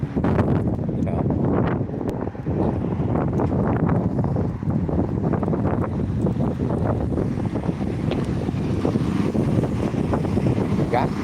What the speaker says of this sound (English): Got windy quick though.